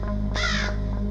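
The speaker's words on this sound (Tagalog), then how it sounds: "isang tunog ng ibon ang narinig ko." A single harsh crow caw rings out loud and close over a steady low hum, used as a sound effect in an animated horror story.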